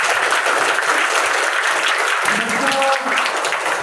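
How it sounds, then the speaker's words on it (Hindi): Loud, sustained applause from a school audience honouring their teachers, dense clapping filling the whole stretch, with a brief burst of voices near the end. "इसलिए अपने गुरुजनों के लिए एक बार जोरदार तालियां"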